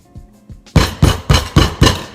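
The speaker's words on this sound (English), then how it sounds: "hammer until it hammers through" A hammer strikes repeatedly, a few light taps followed by five loud, evenly spaced heavy blows, close and with no talk.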